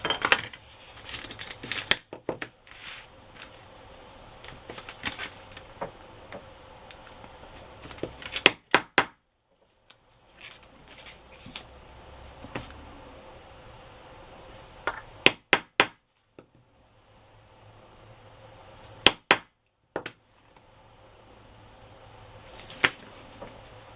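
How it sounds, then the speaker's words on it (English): Metal eyelet being hammered into a paper tag at a craft table: a few sharp, loud clustered taps separated by quieter handling and rustling, with no speech. "So now I'm going to put an eyelet."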